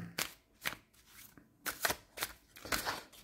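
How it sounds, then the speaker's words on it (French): Tarot or oracle cards of the archangel Michael deck shuffled and drawn up close, several quick riffling bursts separated by short pauses. "On va tirer une carte là"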